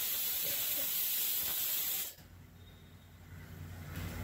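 Hot onion-frying oil poured over layered mutton dum biryani gives a loud, steady hiss for about two seconds, then cuts off, leaving a quiet background.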